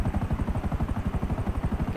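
Rotor chop of a helicopter over Los Santos in GTA V, a steady rapid low thumping that stays loud and close the whole time, with no talk over it.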